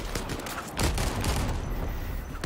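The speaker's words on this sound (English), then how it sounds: "I'm like on my knees shooting this fucking thing." Gunfire in the VR shooter Zero Caliber VR comes as a dense, continuous rattle of bursts, loud and close, with no clear gaps between shots and no talking.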